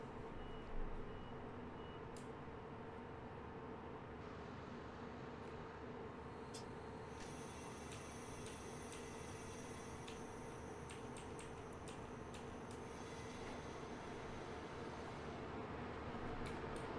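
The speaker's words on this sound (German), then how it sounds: "Und damit verlassen wir den Bahnhof Bad Vilbel." A Train Simulator 2021 HLB replacement train on the RB 41 pulls out of Bad Vilbel station with a steady, low rumble. Faint clicks and brief tones appear midway over the continuous running noise.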